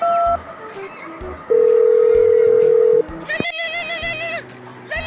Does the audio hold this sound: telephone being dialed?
yes